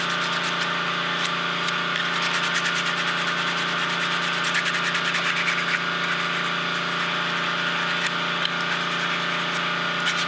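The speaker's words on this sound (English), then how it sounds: "that compressor's running. That thing's loud as hell too" An air compressor runs loudly and steadily in a workshop during Kydex sheath making, a constant droning hum with a faint rhythmic ticking layered over it, no talk.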